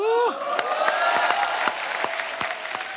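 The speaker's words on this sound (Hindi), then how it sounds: "आपकी ये तालियां, ये सीटियां हमारे लिए ऑक्सीजन का काम करती हैं" Dense applause from a crowd fills the clip, with a rising whistle at the start and scattered claps standing out through the steady clapping.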